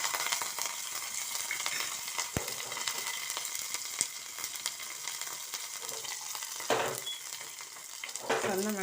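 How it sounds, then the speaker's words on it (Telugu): Mustard seeds spluttering in hot oil while tempering for a banana-flower dish, a dense, steady crackling sizzle throughout with brief louder pops and stirring scrapes near the end. "ఆవాలు చిటపటమంటూ ఉంటే"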